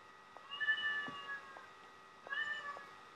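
A cat lets out two warbling, yodel-like meows, each a wavering rising-and-falling call, separated by a short pause and heard fairly close over a quiet low hum.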